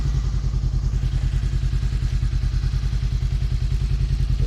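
A Honda CBR500R motorcycle, a 2016 model in matte black with modifications, idles steadily with a throaty, even low pulse and no voices.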